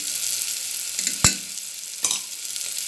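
Pea curry with white sesame and coconut hisses steadily in a pan, broken by two distinct spoon scrapes against the metal as it is stirred.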